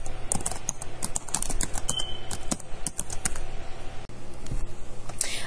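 Fast, steady typing on a computer keyboard, rapid clicking keystrokes close up continuing throughout with no pauses.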